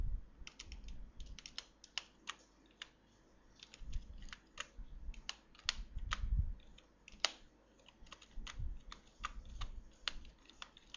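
Keys clatter steadily on a computer keyboard as HTML code is typed, a close, crisp run of irregular clicks with brief pauses and soft low thumps between bursts.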